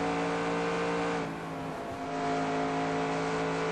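Race car engine in NASCAR Racing 2002 at the Texas track, a steady loud drone with strong harmonic lines that dips briefly mid-clip and then swells back.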